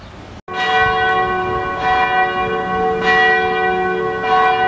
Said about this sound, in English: Listen to those church bells ring.